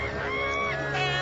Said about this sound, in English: Those ducks are quacking their heads off.